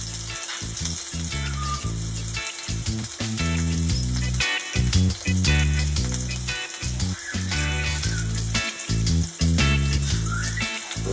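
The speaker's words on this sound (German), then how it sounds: "die brutzeln dann ordentlich" Steady, loud sizzling of Wollwurst sausages frying in a hot pan, crackling continuously throughout with no voices.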